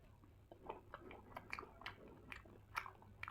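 Quiet crunchy bites and chewing on a Friday's ice cream bar coated in chocolate and peanuts, a string of small irregular crackles heard close up at low volume over a faint steady hum.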